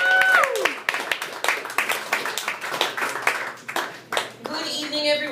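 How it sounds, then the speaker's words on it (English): An audience at a stand-up comedy show in a bar claps and applauds. Steady, dense clapping continues throughout, with a brief voice and a stray tone near the start and a murmur of crowd noise at the end. "Clap it up."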